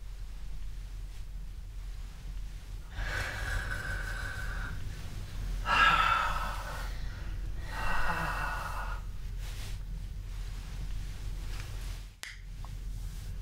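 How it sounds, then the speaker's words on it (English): A person breathing slowly and rhythmically at close range, with several distinct inhales and exhales separated by pauses and a brief sharp click near the end. "It starts at the lowest level by just listening to their breathing rhythm."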